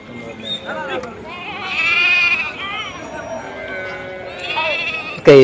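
Sheep bleat loudly and repeatedly nearby at a sheep and goat market in Gudur, several drawn-out wavering calls overlapping, with people talking in the background of a busy outdoor setting.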